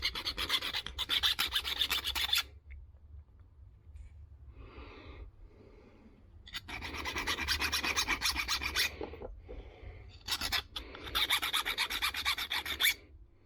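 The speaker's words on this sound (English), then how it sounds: "let me move the board so I'm not filing on top of them" A hand file rasping against the edge of a circuit board in bursts of steady back-and-forth strokes, close and loud, with quieter pauses between passes.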